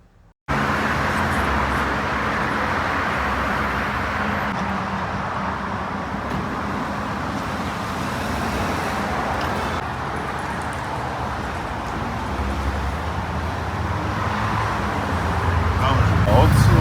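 Steady road traffic rumbles and hisses at a self-service fuel station. It is a continuous mid-distance wash of passing cars that swells slightly near the end, with someone talking over it.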